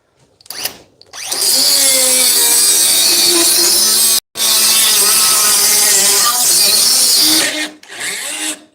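A Dewalt 20V DCS438 cut-off tool cuts with a loud, steady, high whine for several seconds. It breaks off briefly partway through, then resumes strongly and cuts out near the end.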